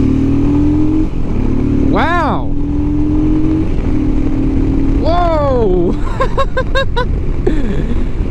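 A Royal Enfield Himalayan motorcycle with a newly fitted aftermarket air filter and stock exhaust idles steadily, then gives a sharp rev, a longer swelling rev and a quick series of throttle blips, loud and close, as a voice exclaims.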